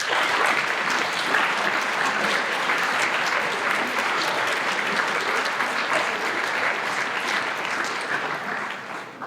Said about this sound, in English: Let's give a round of applause to all of our teachers.